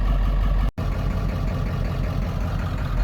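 A 7.3 Powerstroke diesel truck engine idling steadily nearby, a loud low rumble with a rough, uneven chug and a brief dropout early on.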